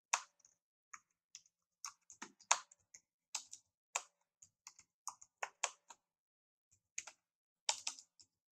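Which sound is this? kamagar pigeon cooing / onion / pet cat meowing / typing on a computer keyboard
typing on a computer keyboard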